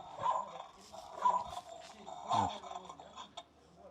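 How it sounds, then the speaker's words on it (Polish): An IP camera's alarm plays a recorded dog barking, several bursts of barks and yips sounding at a moderate level, slightly tinny, spaced across a few seconds. "dzwonek alarmowy i bierzemy sobie szczekanie psa"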